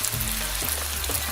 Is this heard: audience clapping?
no